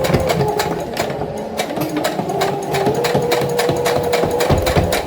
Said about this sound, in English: And then you sew across, and we will be done.